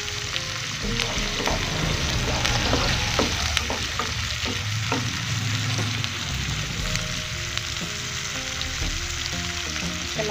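Quail eggs hit a hot pan and sizzle loudly and continuously up close, with occasional clinks and scrapes of a utensil against the pan.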